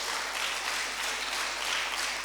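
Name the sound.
audience applause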